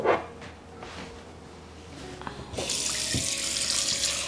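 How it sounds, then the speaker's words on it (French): Water from a tap gushes into a baking dish, a steady close rush that starts suddenly after a few light clunks and handling sounds and keeps running to the end. "On va lui mettre de l'eau."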